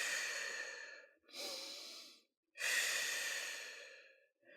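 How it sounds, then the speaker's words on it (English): A slow sequence of deep breaths during a calming exercise: a long inhale through the nose, then long exhales through the mouth, each a soft, close airy rush separated by brief silent pauses, with no talking. "Take a deep breath in through your nose and out through your mouth."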